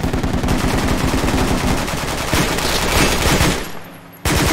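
Loud, close automatic fire from a first-person shooter hammers in rapid bursts, with echoing shots in between, then cuts briefly to near silence before a final sharp burst.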